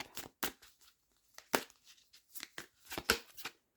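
Irregular soft riffling and snapping bursts of cards being shuffled, close by, with short quiet gaps between the bursts.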